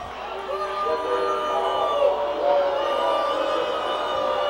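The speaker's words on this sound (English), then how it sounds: "the crowd responds to the call" At a high school boys basketball sectional final, the gym crowd lets out a sustained murmuring roar of disapproval over a referee's call, steady and moderately loud throughout.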